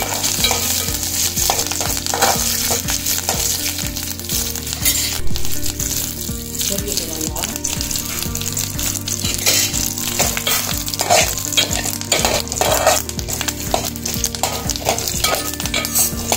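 Curry leaves and three dried red chillies frying in hot oil, a loud continuous crackling sizzle with repeated scraping stirs of a spoon against the pan, no talk.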